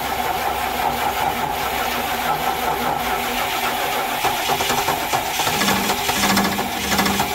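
A 1975 Lincoln Mark IV with a 460 V8, hot-wired, cranks and fires into a continuous rough idle, a loud nearby engine running throughout.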